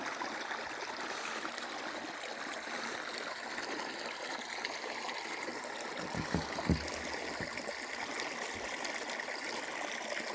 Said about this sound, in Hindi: ये शायद आपको पानी की आवाज़ आ रही हो।